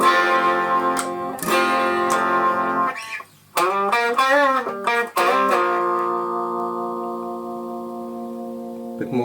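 Distorted electric guitar played through a modern metal tube amplifier, heard alone in several sustained, harmonically rich notes and chords with bends and short gaps, loud and close.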